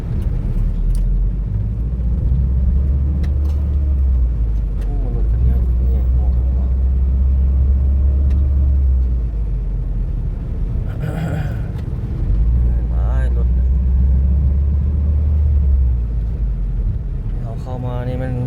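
Evening road traffic in a heavy jam with many cars produces a continuous low rumble of engines that swells and eases, while a person talks over the steady drone.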